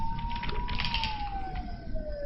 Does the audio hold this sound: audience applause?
no